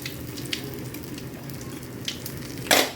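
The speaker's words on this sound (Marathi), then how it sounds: "त्यामुळे यामध्ये मी जिरा मोहरीचा तडका घालून घेणार आहे." Cumin and mustard seeds sizzle in hot oil for a tempering, a continuous close frying hiss with faint crackles, ending in a brief louder burst of spitting sizzle.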